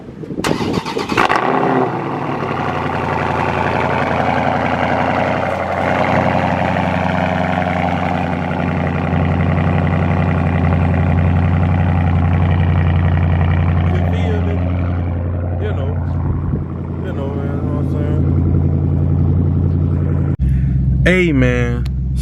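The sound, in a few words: cold start of a 2020 Dodge Charger 392 Scat Pack engine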